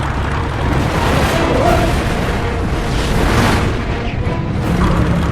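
Documentary reenactment of an airplane nosing over during a dogfight and breaking apart violently: loud, sustained roaring and rumbling noise with heavy bursts and crashing surges throughout.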